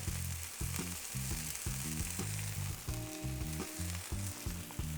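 Onions and seasoned salt sizzle on a smash burger griddle, a loud steady frying hiss broken by rhythmic scraping and tapping from a spatula, with no voices.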